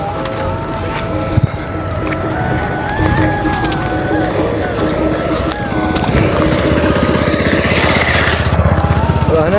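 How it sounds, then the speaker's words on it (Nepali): Two motorbikes coming along a road toward someone walking home after volleyball, their engines droning and rising as they draw near and pass, with steady buzzing and a brief knock partway through. "अगाडिबाट दुईवटा बाइकहरू पनि आउँदैछ"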